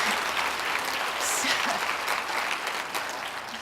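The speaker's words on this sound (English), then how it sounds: "Let's give another round of applause for Christian Paige." A convening audience at an opening plenary in SeaTac gives a round of applause for Christian Paige, an even, sustained wash of clapping from a large room, moderately distant, with faint voices beneath.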